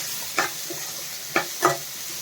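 Raw mango pieces cook in a pan, with a faint low background broken by three short scraping stir sounds, fairly quiet and close.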